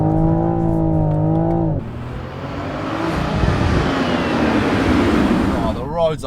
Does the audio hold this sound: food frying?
no